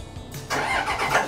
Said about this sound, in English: I'll start the engine with the hatch open